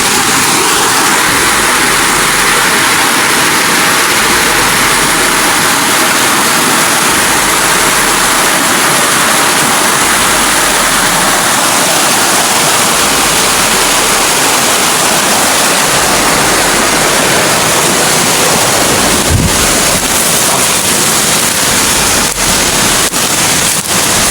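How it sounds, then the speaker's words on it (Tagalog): A large creek rushes with loud, unbroken broadband water noise, close and steady throughout, with some handling bumps near the end. "ang laki ng sapa dito"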